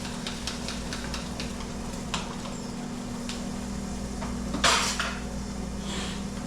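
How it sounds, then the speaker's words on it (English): Eggs go into a preheated pan with a little coconut oil for a high-protein breakfast, making soft scrapes and light clinks over a steady hum, with one louder clatter near the end. No voice is heard. "A little bit of coconut oil. Let's get those eggs in there."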